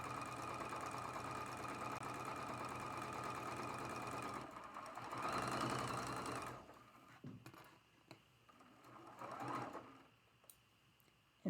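A sewing machine stitching a seam on a spool quilt block, running in a steady close whir for several seconds, then stopping and giving way to a few faint handling clicks and a brief restart.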